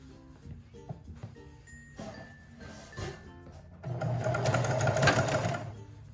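A sewing machine sews dress ruffles with a few soft, quiet clicks and short stitching bursts, then settles into a steadier, louder run of rapid stitching near the end.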